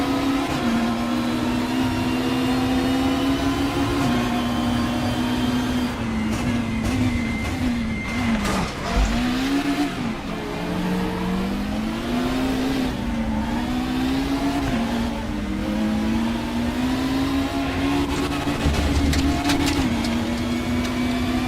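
A BMW M235i race car in the RaceRoom racing game drones loudly with a steady engine note, which dips and rises as it brakes through a chicane at Zandvoort and then accelerates out, with no talk.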